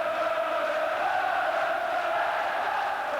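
A packed football crowd on the Kop at Liverpool's ground during a 1981-82 match against Spurs, thousands of voices singing and chanting in a steady, dense roar that fills the whole stretch without a break.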